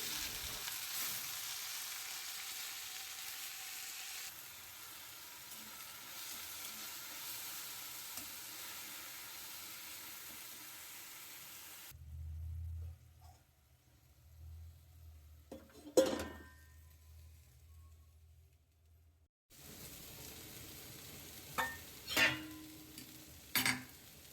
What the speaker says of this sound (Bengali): কড়াইয়ে তেল আর পেঁয়াজ কুচি রসুন কুচি আমি দিয়ে দিলাম তো এবার সেটাকে একটু লাল করে ভেজে নেব